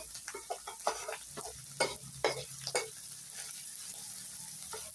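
Pork filling for sago dumplings being stir-fried in a pan, with steady sizzling and a few scraping stirs at irregular intervals, close and moderately loud, no talk.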